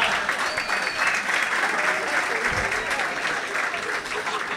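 Crowd at a live stand-up comedy show in Barcelona breaks into applause for a father who brought his daughter, a dense sustained roar of clapping from a large audience with faint voices mixed in.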